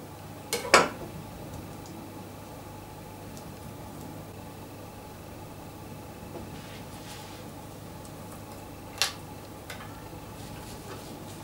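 Potatoes are stirred with olive oil in a cast iron skillet, giving two sharp metallic clanks of a utensil against the pan, one near the start and another later, amid quiet background hum.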